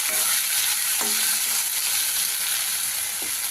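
Turmeric spice paste fries in a pan with a steady, loud sizzle and occasional stirring scrapes, continuous and close for a few seconds, with no voices.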